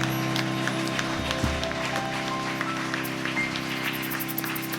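Church congregation clapping hands together in an ongoing, steady patter of applause, moderately loud and continuous, with a faint tonal background beneath it.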